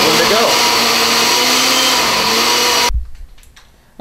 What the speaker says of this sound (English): And just let the blender go.